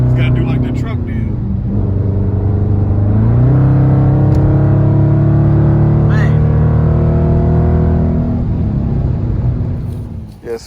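A 2019 Dodge Charger R/T with a 5.7 Hemi and active exhaust, muffler deleted, idles with a deep rumble, then revs up and holds a louder droning tone before settling back down.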